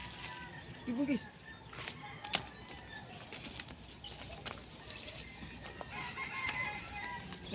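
Faint bird calls, rooster-like crowing and clucking, rise from a noisy outdoor spot on a bird hunt, with a short call near the start and scattered chirps against a steady rustling background while someone talks.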